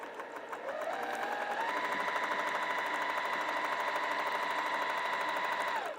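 A sewing machine quilts along a seam line, its motor spinning up from a low start to a fast, steady hum that runs evenly, then stops abruptly at the end.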